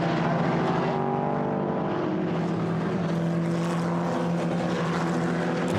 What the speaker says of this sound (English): AMR Super Racing Aston Martin coming out of the pit lane.